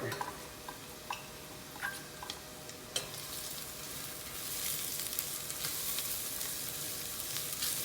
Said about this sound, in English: the onions have been cooking for about 5 minutes now. At this point, what I want to do is I want to add our garlic.